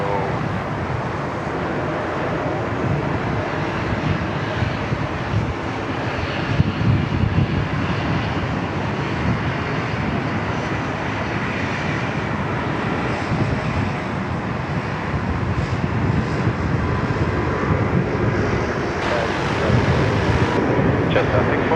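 Cathay Pacific airliner landing on runway 34 left at Sydney Airport, heard as a steady, broad jet engine roar mixed with wind noise, with radio and talk in the background.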